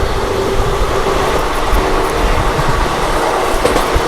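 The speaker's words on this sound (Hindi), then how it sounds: "न्यू दिल्ली रानी कमलापति शताब्दी एक्सप्रेस। भाई फ्लैट 130 गई है शताब्दी।" The New Delhi–Rani Kamlapati Shatabdi Express passing at about 130 km/h, a loud, steady close rush of wheels and rushing air with rhythmic clattering throughout.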